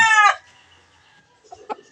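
A chicken gives a drawn-out squawk, followed after a pause by a couple of short, close clucks.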